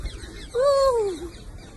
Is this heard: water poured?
no